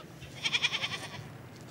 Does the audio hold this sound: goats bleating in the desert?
yes